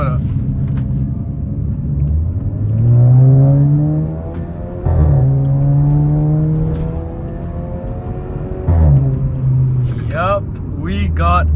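A car with a catless decat downpipe accelerates hard on a UK road, its engine note climbing through several gear changes, each rise dropping back before pulling up again, loud and close from inside the cabin.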